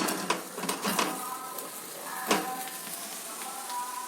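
Dried red chillies and onion sizzle in hot oil, a bright continuous crackle broken by several sharp spatters and pops near the pan.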